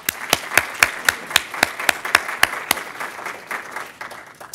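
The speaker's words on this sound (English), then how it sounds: "if we could have some applause for Tom" Applause for Tom Rowe at a civic gathering, dominated by sharp, evenly spaced loud claps close to the microphone over a softer spread of clapping from the wider audience, tapering slightly toward the end.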